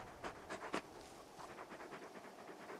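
Torgal, a very large dog in Final Fantasy 16, pants faintly in quick, rhythmic breaths over a low ambient background.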